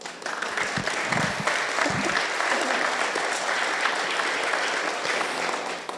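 Steady applause from an audience at a STEM academy dedication ceremony for a school district, dense and sustained for several seconds, with a few brief voices mixed in near the start.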